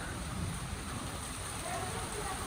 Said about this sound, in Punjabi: ਦੇਖੋ ਜੀ ਮਿੰਟ ਚ ਕਿੰਨੀ ਜ਼ੋਰ ਨਾਲ ਮੀਂਹ ਆ ਗਿਆ